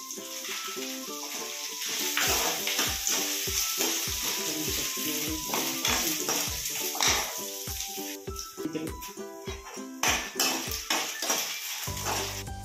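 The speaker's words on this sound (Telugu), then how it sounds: "వేగిన తర్వాత ఎండుమిరపకాయలు వేసేసుకున్నాము" Dried red chillies fry in hot oil with a steady sizzle, overlaid by rhythmic, repeated clinks and scrapes of a utensil against the pan, close and fairly busy.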